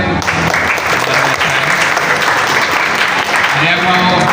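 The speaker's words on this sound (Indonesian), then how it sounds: "Mana tepuk tangannya?" Loud, dense audience applause at an Indonesian student gathering on Qur'anic leadership, a continuous rapid patter of many hands clapping close by without letup.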